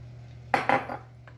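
A spoon stirs mac and cheese sauce made with milk in a pot, giving a few quick metallic clinks and scrapes over a low steady hum, with no talk.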